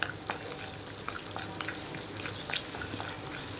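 Peanuts frying in a small amount of oil in a pan for a puliyogare spice mix, a steady low sizzle with faint crackles and pops, close up and quiet.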